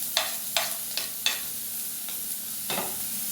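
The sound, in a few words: frying ginger, garlic, carrot and green chilies in a pan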